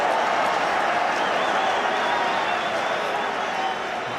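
Football stadium crowd at the 1982 World Cup match between Scotland and the USSR, a loud, steady roar of thousands of fans filling the whole clip without a break.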